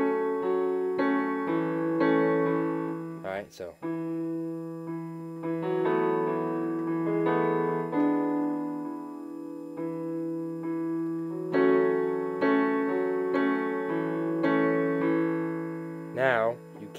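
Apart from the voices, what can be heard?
piano playing a song's chord part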